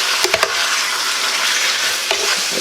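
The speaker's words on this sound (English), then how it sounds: "We'll just get this stirred a little bit, flipped over, and it's browning," Beef chunks brown in a pot for Guinness stew, sizzling loudly and continuously up close, with a few quick scraping knocks of a utensil as the meat is stirred and flipped.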